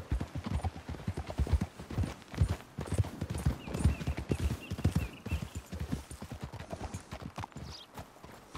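Horse hooves clip-clop in a steady, fairly quiet walking rhythm on a trail in the Red Dead Redemption 2 video game, continuing throughout with no talk.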